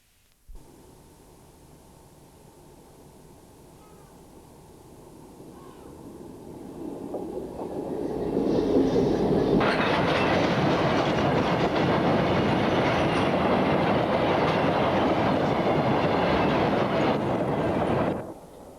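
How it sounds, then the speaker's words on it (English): A long freight train of empty coal wagons rumbles past near Immingham, England, with a rhythmic clickety-clack, growing louder as it nears, holding steady, then cutting off at the end. "A train of coal empties swings around the curve from Brocklesby and heads towards the Immingham complex"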